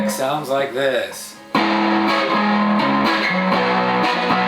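A warm electric guitar on its neck gold foil clone pickup, in a Bobkat, strums a few chords after a brief bending lick, steady and close, with no talking.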